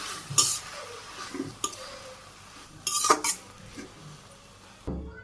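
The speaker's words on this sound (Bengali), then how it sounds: "একটু নেড়ে চেড়ে মিশিয়ে দিই" Stirring greens with rice and salt in a pot, a spoon knocks and scrapes against the metal several times at uneven intervals, close and moderately loud, ending in a brief dull thump.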